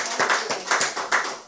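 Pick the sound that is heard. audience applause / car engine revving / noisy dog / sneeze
audience applause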